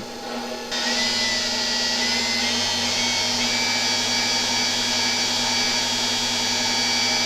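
A Vitamix blender's single-direction brushed motor runs continuously to wear in new brushes, a loud, steady whirring drone with a high whine that starts abruptly after a short quiet moment and holds unchanged.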